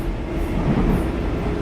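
A Docklands Light Railway train runs toward Beckton, approaching Shadwell station, with a steady, loud rumble of wheels and motor that continues throughout without pause.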